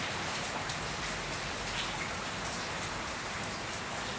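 Steady rain falling outdoors, a dense even hiss of drops on surfaces with no breaks, moderately loud and alone.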